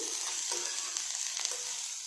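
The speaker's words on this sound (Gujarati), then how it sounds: "હું બેથી ત્રણ મિનિટ માટે આ રીતના જ રોટલીને બરાબર શેકાવા દઈશ" Soft, steady sizzling of leftover roti frying in a pan, with a few light crackles and scrapes, quiet and close.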